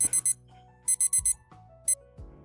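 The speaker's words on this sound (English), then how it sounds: "That's my alarm." A video game alarm clock rings in three bursts of bright, high electronic beeps, each a quick cluster of pulses with short gaps between, set against a soft, low musical background.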